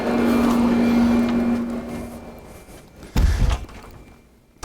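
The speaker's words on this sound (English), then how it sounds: "We'll just shut this door." A door shut indoors, one dull thud near the end after a stretch of low background hum and rustle, with nothing else prominent.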